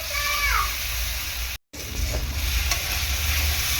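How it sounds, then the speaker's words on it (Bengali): Spices with chili and turmeric powder stirred in a hot pan for a fish and potato curry, giving a steady close sizzle with scraping and clinking of the spoon, briefly cut off midway before resuming. "হালকা করে একদম নাড়াচাড়া করে নেব"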